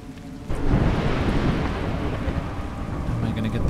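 Steady rain and rumbling thunder in the puppet video game A Juggler's Tale, a loud broadband downpour that surges in at once and holds unbroken to the end.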